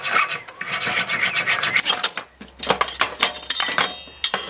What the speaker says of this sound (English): Just file those edges off.